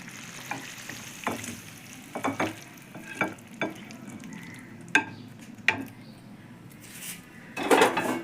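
Chicken curry (chicken dak bungalow) is scraped and tipped out of a pan: sharp metal clinks and scrapes over a faint low sizzle, ending in a wet rushing pour.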